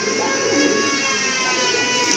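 A pair of pigeons offered for sale cooing amid a dense, steady wash of background noise, continuous and fairly loud, with no talk.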